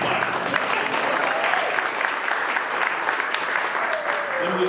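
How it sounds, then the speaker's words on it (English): Sustained applause from a crowd at wedding speeches, dense steady clapping with no breaks, moderately loud and fairly close. "Yes, please clap."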